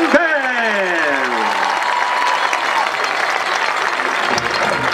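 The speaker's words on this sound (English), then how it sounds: "one more cheer for the 2011 Bullets Marching Band!" A festival crowd cheers and claps for the 2011 Bullets Marching Band at a collegiate marching band festival, producing a loud, continuous roar of applause after a brief descending tone at the start.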